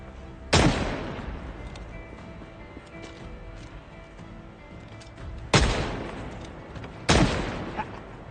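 Three sharp pistol shots ring out in the zombie survival game Project Zomboid, one early and two close together later, each with a crisp crack and short decaying tail over a faint steady background hum.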